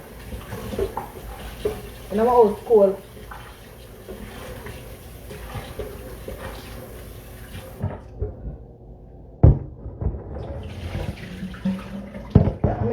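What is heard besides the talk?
water poured out, meat washed in water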